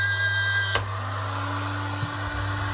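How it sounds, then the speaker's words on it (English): An old Black & Decker hot air blower drying a pot runs with a steady close whirring hum, and a short knock partway through shifts its tone. "I use this hot air blower."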